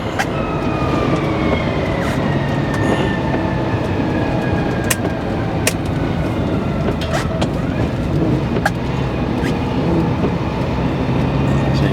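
A 308 car engine is run up through the gears on a wet, gloomy day with cold tyres, producing a loud, continuous roar throughout with rising pitch sweeps as it accelerates.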